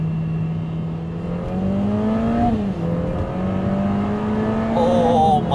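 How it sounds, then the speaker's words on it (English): Lotus Emira on the Hethel test track revving up as it downshifts into second gear: a loud, steady engine drone with rising and falling pitch sweeps and a quick blip, heard close from inside the car. "All right, I'm downshifting to second."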